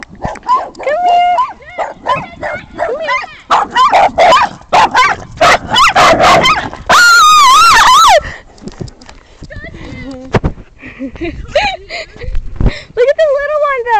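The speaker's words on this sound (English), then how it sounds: "dogs over there." Several dogs bark, yip and whimper outdoors, with repeated sharp barks and whines of varying loudness, some close and loud, others farther off, while people talk over and between them.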